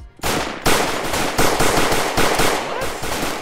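Glock fitted with an auto switch fires rapid automatic bursts in Roblox FiveM, loud close rattling volleys with brief gaps between strings of shots.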